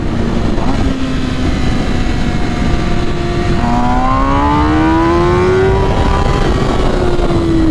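A 2021 MV Agusta Rush motorcycle with a flash-tuned ECU accelerates hard through several gears, its engine note climbing, dropping at each shift, and climbing again, loud and continuous.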